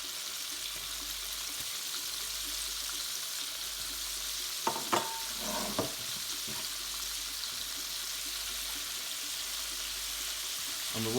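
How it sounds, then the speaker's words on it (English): Chilies frying in hot oil in a pan for salt and pepper squid make a continuous bright sizzle, with a brief cluster of louder clatters and spits midway. "Now in with our chilies."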